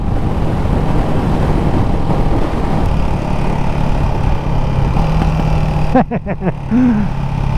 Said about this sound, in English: A little bit of popping and banging on the overrun there.